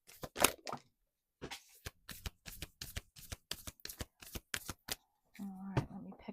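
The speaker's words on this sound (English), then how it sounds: "the way the cards are shuffling" Tarot cards are shuffled in a series of crisp riffling bursts, a long flurry, then a pause and a quick run of short snaps, close and quiet, ending in a muffled rustle.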